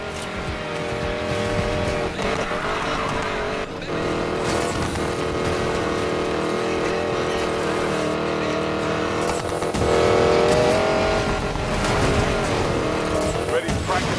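Racing hypercar in the Need for Speed Payback video game, a loud continuous engine roar with tire squeal, mixed under game music and voices throughout.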